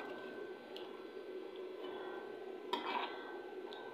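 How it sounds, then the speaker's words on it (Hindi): A spoon gently stirs a finished eggplant and mutton curry topped with chopped green coriander in a pot, soft wet squishing and faint clinks under a steady background hiss, close but quiet. "तो ये रेडी है, इसको मिक्स कर लेंगे हम हल्का सा।"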